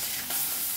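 Pabda fish frying in a pan gives off a close, steady sizzle that runs unbroken and fairly loud for the whole short stretch, with no voices over it.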